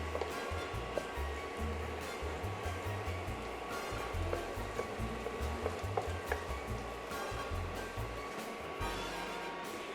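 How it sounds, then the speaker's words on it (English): Buttery fried onions being scooped from a pan with a spoon, a soft continuous sizzle and rush with scattered light scraping and clinking, fairly quiet and close, with no one speaking. "So let's just scoop these onions out into a nice big bowl."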